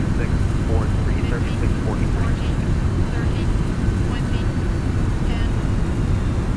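Thrust reversers of an MD-11 on its landing roll in a flight simulator, a dense, steady roar that fills the whole stretch at high volume, with speech over it.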